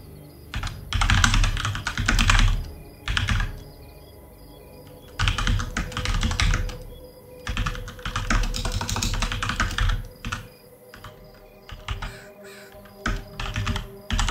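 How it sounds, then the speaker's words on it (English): Typing on a computer keyboard comes in close, loud bursts of rapid clacking keystrokes separated by short pauses, with no talking. "I might be typing it wrong."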